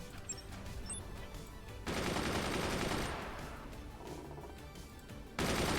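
Machine gunners firing in the video game Forts, sustained rattling bursts that cut in abruptly, fade somewhat, then return loud near the end, with small impacts scattered throughout.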